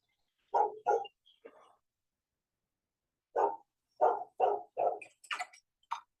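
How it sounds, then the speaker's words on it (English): A dog barks repeatedly in short bursts, a pair first, then a rapid run of barks after a pause, moderately distant and fairly quiet. "The dog barking?"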